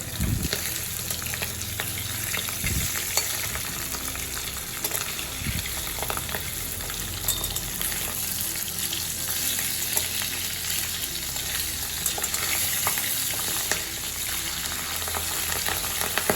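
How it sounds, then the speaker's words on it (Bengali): Pabda fish, a scaleless fish, fries in hot oil with a steady crackling sizzle and sharp splattering pops that continue for the whole stretch, close and even, with no voices. "পাবদা মাছের গায়ে আঁশ নেই বলে এই মাছগুলো একটু ভাজার সময় ছিটে আসে"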